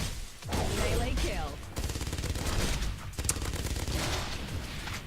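Rapid bursts of shotgun and turret gunfire from the video game Meltdown crackle loudly in dense, repeated volleys, with a sharp crack near the middle.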